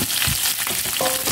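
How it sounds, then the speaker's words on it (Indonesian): Chili peppers fry in a pan with a steady, close hiss and sizzle that runs unbroken for the whole stretch, with no talk over it. "sekarang tinggal goreng itu, lomboknya."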